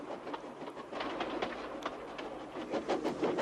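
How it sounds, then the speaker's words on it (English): A dirty freight train of the Thomas & Friends kind rolls steadily along rails, with a continuous rumble and repeated clickety-clack of wagon wheels over joints, heard alone without any voices. "he was pulling a dirty freight train"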